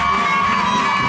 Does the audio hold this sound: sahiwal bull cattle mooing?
no